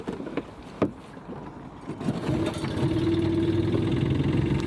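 Small outboard boat engine on a yacht tender, started after several pull-start tugs following four months unused, a few knocks and clatters giving way to a steady idling drone that builds and holds.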